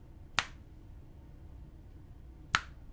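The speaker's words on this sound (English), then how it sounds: "if you're snapping your fingers" Two crisp finger snaps about two seconds apart, close and sharp, standing alone against a quiet background.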